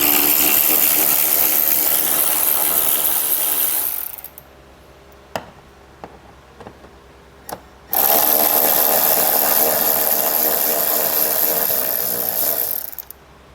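Screws on a 2022 Jeep Cherokee taillight being backed out with a T30 Torx bit on a powered driver: two long, loud whirring bursts separated by a quieter gap of small clicks and taps.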